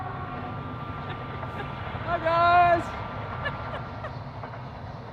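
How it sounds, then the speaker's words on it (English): A passenger train goes by at a distance, a low steady rumble with a brief loud horn-like swell in the middle, while people speak quietly nearby. "Passenger train."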